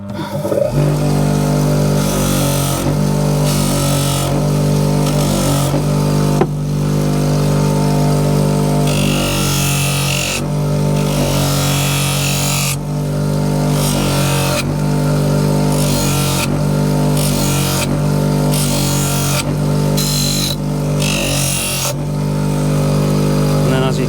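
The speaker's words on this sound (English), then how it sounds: "So now I've got this wheel here set up, and we're going to use that to take the rough edges off." A motorized grinding wheel runs continuously and loudly while farrier knives are sharpened, a steady droning whir with shifting grinding tones as a blade is pressed against it, with a voice talking over it.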